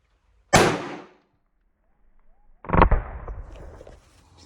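A .450 Bushmaster deer rifle fires into drywall: two sharp, loud cracks about two seconds apart, the second followed by a longer rumbling tail.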